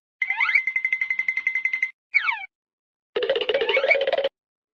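A twanging metal strip toy gives springy, wobbling boings in a rapid quivering burst, then a short second twang, then a lower, buzzier burst after a pause, all close and alone.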